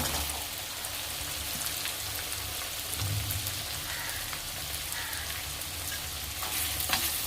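Chopped onions fry in a pan for a potato and fenugreek leaf sabzi, giving a steady, even crackling sizzle that sounds much like light rain and holds at a constant level throughout, with no voices.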